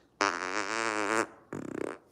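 A loud, close fart: one long steady buzzing blast, a short pause, then a shorter sputtering burst of rapid flutters, heard alone with no talk.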